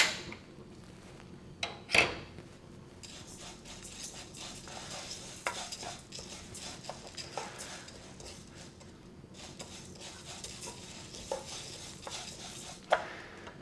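Glutinous rice and ingredients for black sesame porridge being lightly stir-fried in a pan, with a soft continuous scraping and stirring, occasional utensil clinks and a sharp knock near the start.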